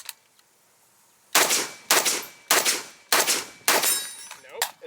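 Five sharp gunshots on an outdoor shooting range, fired in a steady rhythm about half a second to a second apart, loud and close, with a faint trailing echo and no talking.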